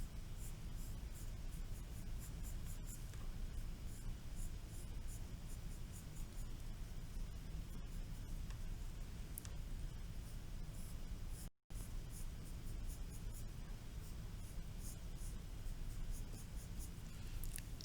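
Marker or pencil strokes drawing carrots by hand during an elementary math lesson, a steady close scratching texture running throughout with one brief dropout.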